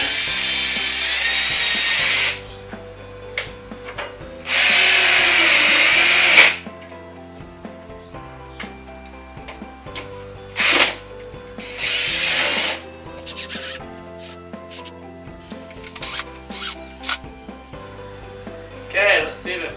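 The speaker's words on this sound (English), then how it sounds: "Got my extension tip on the drill, which is going to help." A power drill with an extension tip drives fasteners to secure a ceiling fan retrofit junction box bracket overhead, loud whirring bursts of a few seconds each, followed by shorter spurts and clicks.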